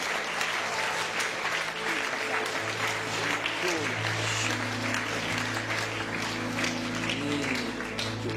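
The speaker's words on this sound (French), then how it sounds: "Applaudissez votre Dieu." Church congregation applauding their God during a worship service, dense sustained clapping and crowd noise filling the room throughout, with music and voices continuing underneath.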